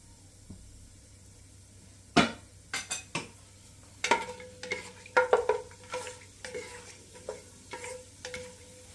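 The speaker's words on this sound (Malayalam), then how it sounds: "ഇത് ഫ്രൈ ആവുന്നിടം വരെ നമ്മൾ ഇളക്കണം." Cardamom pods, cinnamon, cloves and other garam masala spices fry in oil for a Hyderabadi chicken biryani, a low sizzle under a run of sharp metal spoon clinks and scrapes against the pan as they are stirred.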